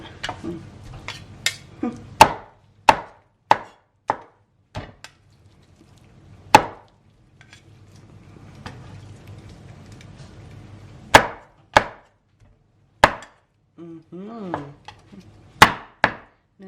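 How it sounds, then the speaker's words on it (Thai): Heavy cleaver chops strike a board repeatedly as a cooked pork leg is chopped, in irregular bursts, loud and close, with quieter pauses and a faint voice between strikes. "เสียงสับ เสียงสับหมู"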